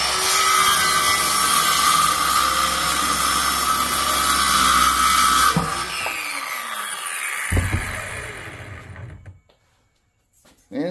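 A loud Hart power saw whines through wood for several seconds, then the cut ends, the motor winds down and a short silence follows.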